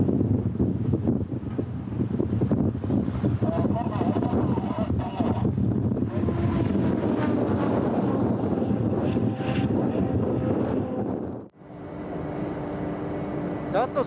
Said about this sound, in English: An area known for strong gusts of wind